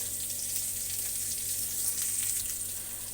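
Koi fish frying in oil with salt and turmeric gives a quiet, steady crackling sizzle up close with no breaks and no voices.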